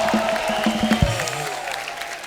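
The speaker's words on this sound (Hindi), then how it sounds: "जोरदार तालियां वर्षा जी के लिए हो जाए।" Studio audience applause on the Kapil Sharma comedy show greets a guest, a brief burst of clapping mixed with tonal music and a sweeping effect throughout.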